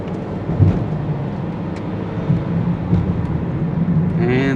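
A car drives down a lane on a bright day, with a steady low rumble of engine and road noise throughout and faint muffled voices underneath.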